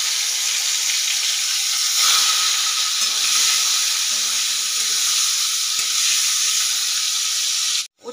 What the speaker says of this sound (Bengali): উচ্ছেটা আমার লাল লাল করে ভাজা হয়ে গেছে